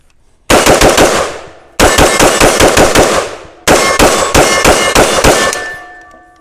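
Palmetto State Armory AK-105 rifle fired in three rapid strings of about six to eight loud, close shots each, sharp metallic cracks with ringing decay between bursts, no talking.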